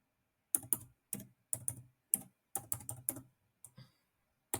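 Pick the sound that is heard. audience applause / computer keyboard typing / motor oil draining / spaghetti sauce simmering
computer keyboard typing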